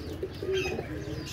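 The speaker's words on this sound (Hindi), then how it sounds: "दोस्तों ये 10 अदद ब्रीडर कबूतर हैं" Breeder pigeons coo softly nearby in a short burst of low, rounded calls, with a faint chirp above them and no talking.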